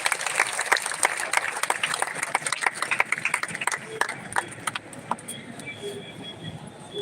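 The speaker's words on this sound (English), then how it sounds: "We will give claps to him." An audience at a World Space Week celebration at a college in Mudhol claps for an absent guest, scattered and uneven applause that thins out toward the end.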